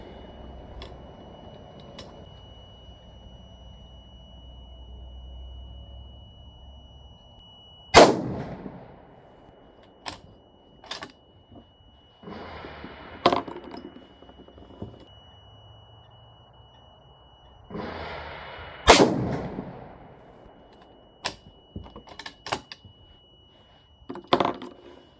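Single shots from a .308 Remington 700 rifle firing Hornady 178-grain AMAX handloads ring out at intervals. Each loud crack is followed by a ringing tail over a quiet background, with faint clicks between the shots.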